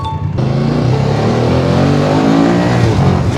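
BMW F750 GS motorcycle engine accelerating hard, a loud steady rising drone from a near ride-along position, continuous throughout after a brief quieter start.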